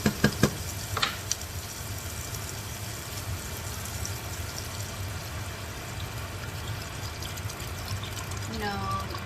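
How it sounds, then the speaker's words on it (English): Water poured into a pot of cooking onions on the stove, a steady sizzling and splashing wash with a few sharp clinks at the start, under quiet background. "then you can start putting in the water in there"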